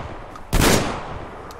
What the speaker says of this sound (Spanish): puedo disparar... Tres disparos rápido